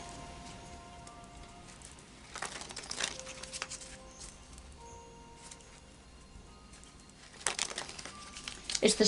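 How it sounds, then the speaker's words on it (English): Oracle of Visions cards are shuffled by hand, giving papery crinkling and rustling in short bursts near the start, middle and end, faint and close, with bird cooing in the background. "Let me just do a shuffle of the Oracle of Visions."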